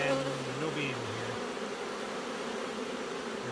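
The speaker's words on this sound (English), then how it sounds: "There's a smattering of bees around." Bees buzz close by in a continuous drone, one passing nearby with a shifting pitch, over a soft outdoor hum.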